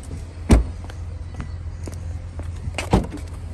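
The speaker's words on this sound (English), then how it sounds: "Automatic lift gate" The automatic lift gate of a 2023 Cadillac XT5 Sport runs with a low motor hum, marked by two sharp thuds or clunks at the latch, close by with no talk.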